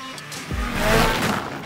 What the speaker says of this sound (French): Le moteur CTEC 2600 émet un son très sportif et la réponse est bonne.